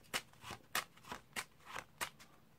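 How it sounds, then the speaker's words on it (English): Playing cards are shuffled by hand during a card magic performance, a handful of crisp riffling bursts at a quick, uneven rhythm, close and fairly quiet with no talking. "And we'll just give them another shuffle."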